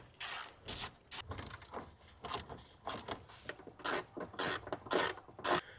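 A hand ratchet unbolts the coolant reservoir bolts on a car, giving close, crisp clicking bursts in a repeated back-and-forth rhythm with short pauses between strokes.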